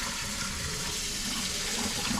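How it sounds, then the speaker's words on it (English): Hot tap water runs steadily from a faucet into a sink while dishes are washed by hand, a continuous broadband rush that stays loud and even throughout with no talking. "I'm using hot water to do the dishes"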